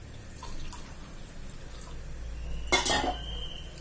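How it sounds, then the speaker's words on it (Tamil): Water poured into a cooking pot for rice and moong dal kozhukattai, a brief splashing burst with faint clinks of kitchenware around it. "மொத்தம் மூணு பங்கு தண்ணி ஊற்றியாச்சு"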